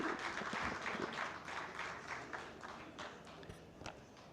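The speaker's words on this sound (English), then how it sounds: "A round of applause as he comes." Scattered audience applause at a trade fair session in Algiers greets an arriving moderator, moderately loud at first then thinning out, with a few distinct claps and light footsteps near the end.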